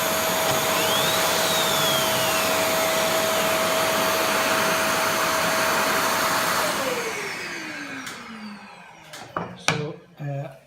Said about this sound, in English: as soon as I press get the router to go, it starts the hoover as well